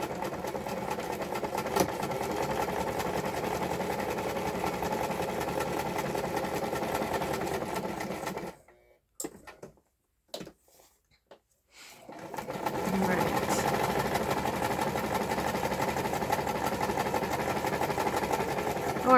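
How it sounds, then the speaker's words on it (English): A sewing machine runs a long stitch across journal cards with a steady close mechanical whir, stops briefly for a few clicks, then starts again and hums on evenly. "just kind of running stitch it"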